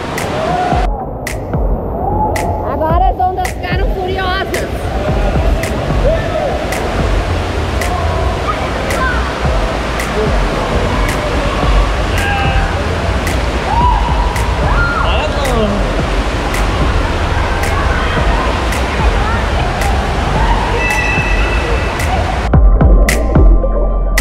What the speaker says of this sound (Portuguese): as ondas aumentaram